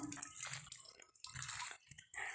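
A village hand pump drawing borewell water: a steady, close rush of splashing, gushing water with brief dips as the handle strokes.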